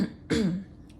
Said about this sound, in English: Don't mind my cough.